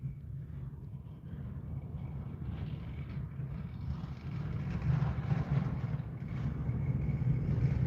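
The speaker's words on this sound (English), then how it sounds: "that's a log truck" A log truck rumbles along a nearby road, its low engine drone and tyre roar building steadily as it draws closer and louder, with no talking over it.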